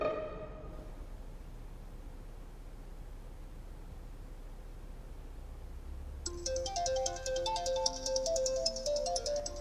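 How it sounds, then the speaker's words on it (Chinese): A mobile phone ringtone plays a repeating electronic melody after a few seconds of quiet room tone, moderately loud and continuing to the end. "是你的电话吧？一直在响。"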